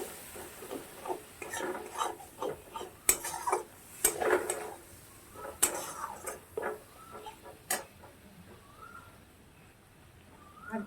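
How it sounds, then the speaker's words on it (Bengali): Metal spoon clinking and scraping in a pan while spices are stirred with a little water for chicken kosha, irregular close taps and scrapes with quiet gaps, no talking. "সব মশলাগুলোকে ভালো করে একসাথে মিশিয়ে দেব।"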